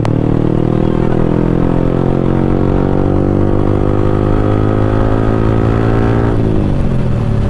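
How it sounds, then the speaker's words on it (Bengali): A Benelli 600 motorcycle engine running nearby at a drag race, a loud, steady multi-cylinder drone that holds its pitch and then drops slightly near the end. "আর এখানে দেখো বেনেলি 600 তো আবার নিয়ে চালু হয়ে গেছে"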